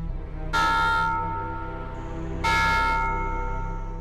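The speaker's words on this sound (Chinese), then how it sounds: "学校里这清脆的钟声他再熟悉不过" An old village school bell of struck metal clangs twice, each bright ringing strike hanging and decaying slowly over a low steady background hum.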